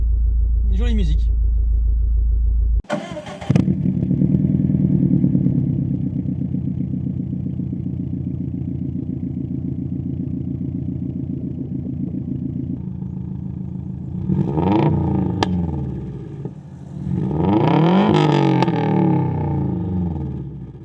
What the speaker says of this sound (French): Ouais, ça chante un petit peu. Hein, petit retour de flamme. Le pop-pop-pop du flat, classique.